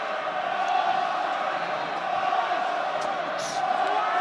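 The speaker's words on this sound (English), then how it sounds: "the home crowd trying to lift their white-shirted forward pack to greater heights" A home crowd at an Ulster v Leinster rugby match makes a broad, steady roar that swells slightly, with a voice talking over it and a few faint whistles.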